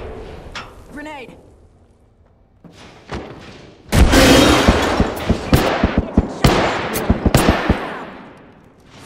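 Gunfire and a grenade blast in a shooter video game: a few scattered shots and a sliding whistle lead into a loud boom, followed by rapid bursts of close gunfire and sharp impacts that fade at the end.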